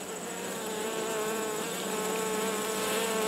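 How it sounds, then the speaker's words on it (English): An agitated honey bee colony that is rejecting a newly introduced queen buzzes in a dense, steady drone. The sound is close and continuous throughout, with no voices. "this is how they behave when they do not accept the new queen bee and they are ready to attack and kill her"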